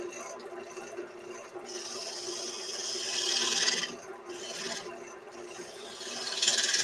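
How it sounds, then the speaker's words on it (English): Spindle gouge cutting into wood spinning on a lathe while turning a vase, giving a steady close rasping scrape that swells into louder, hissier bursts of cutting, with no talk. "Now, I like using the spindle gouge."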